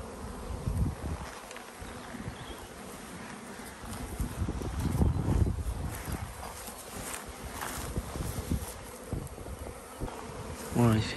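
Bees buzz busily around hive colonies at an apiary on a sunny spring day of about 18 degrees, a continuous close buzzing with passing swells as individual insects fly near, plus occasional handling noises.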